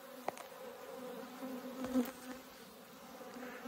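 Honey bees from an abandoned, never-inspected beehive buzzing close by, a steady low drone with a few louder passes as individual bees fly near, alone without talk.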